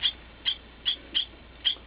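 Repeated sharp bird calls indoors in a bathroom with a shared bathtub, five evenly spaced high-pitched cries over a quiet background, no talking.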